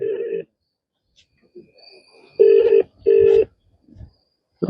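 Ringback tone of a phone call to a flood control room, with a short burst followed by two clear, evenly spaced rings heard through a handset, separated by quiet gaps and faint background murmur.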